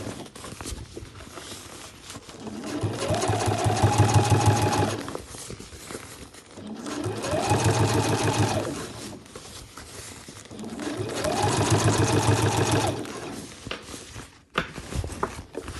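A sewing machine stitches a seam on a leatherette backpack while sewing in the embroidery hoop, running in three steady bursts of rapid stitching with pauses between them.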